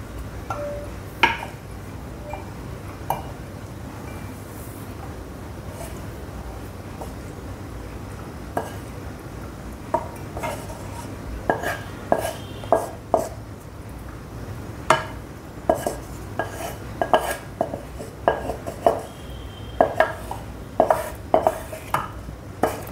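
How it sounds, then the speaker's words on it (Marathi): A cooled onion and tomato mixture is scraped from a pan into a mixer jar. A spoon gives scattered close metallic scrapes and clinks against the cookware, with no talking. "आता मी हे मिक्सरच्या भांड्यात काढून घेते."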